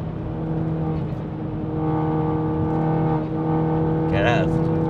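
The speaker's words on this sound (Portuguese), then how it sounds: "E depois tens o motor a puxar em condições." A Mini John Cooper Works with a 306 hp engine pulling hard, its steady tonal engine note droning loudly from inside the cabin, with rising whine near the end and people talking over it.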